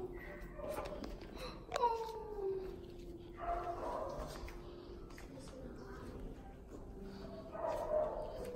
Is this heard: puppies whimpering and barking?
yes